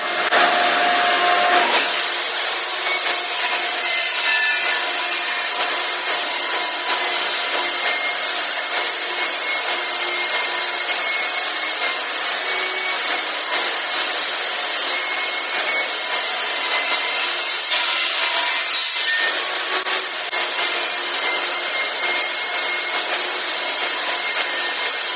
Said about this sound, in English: I'm going to rip this to 1 3/4 inches down each side